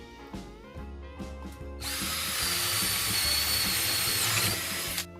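A Ronix 8018 cordless drill in high gear whirs up to high speed and bores steadily into wood for about three seconds, close and loud, after a few light handling clicks.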